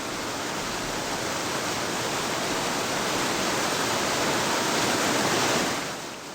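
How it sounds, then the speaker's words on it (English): Loud, unbroken rain roars in the survival video game Escape the Pacific, a dense wash of falling water that holds steady, then eases slightly at the end. "those rain noises are just super, super duper loud"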